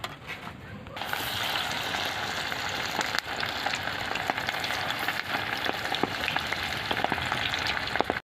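Chicken legs deep frying in hot oil, producing a steady, dense sizzle and crackle that starts abruptly and continues loudly and evenly throughout, with a few small pops.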